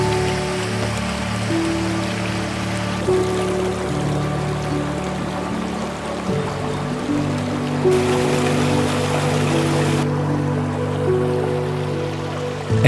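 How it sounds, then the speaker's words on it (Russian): A winter waterfall in the Dagestan mountains rushes in a steady, even hiss of falling water, heard continuously under sustained background music. "Это просто чудо увидеть зимой действующий водопад"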